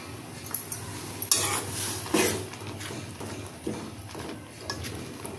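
A spoon stirs flour into boiling water in a pot to form modak dough, giving close, irregular scrapes and knocks with a few sharper clatters and no talking.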